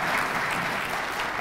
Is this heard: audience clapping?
yes